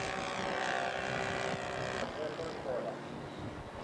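Electric scale model Taylorcraft making a flyby at a scale aircraft show, a steady propeller drone holding level before easing off after the pass.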